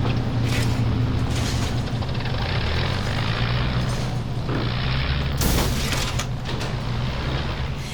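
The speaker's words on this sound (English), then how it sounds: "There's a violent crash" Dramatized aircraft crash during a ditching of fuel tanks in an early female aviation story: a steady loud propeller-plane drone with a sharp impact burst near the middle and creaking, clattering mechanical noise, no talk.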